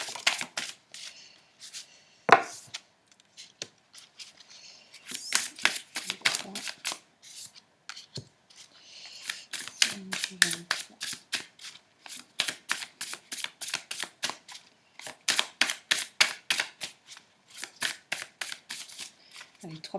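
Tarot cards are riffled and shuffled for a reading, giving close, rapid flurries of papery flicks in repeated rhythmic runs, with someone speaking briefly between them.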